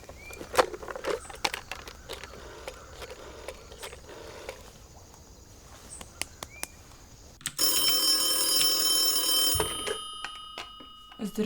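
A telephone rings while an emergency call to 112 is being placed, a bright, shrill, continuous ringing that starts abruptly partway through after quieter scuffling and ends after a couple of seconds.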